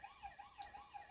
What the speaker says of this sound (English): Turn the siren on.